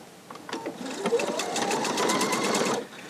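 A Pfaff sewing machine stitches a triple ribbon pattern, its motor whirring in a steady run of rapid needle strokes that builds up after a few short starts and then stops abruptly near the end.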